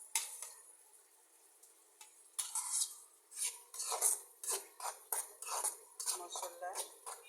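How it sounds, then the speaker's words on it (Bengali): Greens, potato and lentils are sautéed in a pan, heard as a rhythmic series of metal spatula scrapes and clinks against the pan, quiet at first and then louder and regular. There is no sizzle beneath them. "শাক আলুটা ডালটা একসাথে আমি এটা কষাবো"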